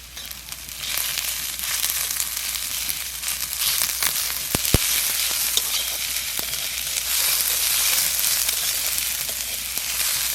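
Garlic frying in a pan for a bitter gourd dish, a steady bright sizzle and crackle that holds throughout with a few sharper pops, close by and without speech.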